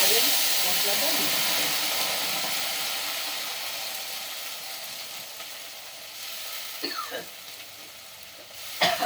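Onion masala paste hits a hot pan with cumin and bay leaf and fries with a loud, dense sizzle that slowly fades, followed by a few clanks of stirring near the end.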